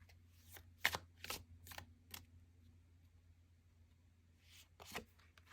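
Tarot cards being counted out and laid down one by one, with soft close flicks and slaps spread irregularly over a few seconds in a quiet room.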